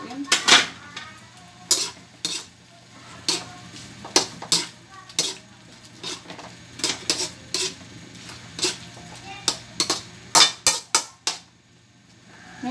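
Spoon or spatula scraping and clinking in a pan while mixed vegetables with chicken and tofu are stirred after soy and oyster sauce go in; irregular sharp metallic knocks over a low background, no talk.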